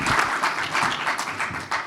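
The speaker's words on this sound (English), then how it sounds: "So another round of applause for the team." Audience applause at a final-day event for a team, sustained dense clapping over about two seconds, fairly loud and steady with no talk on top.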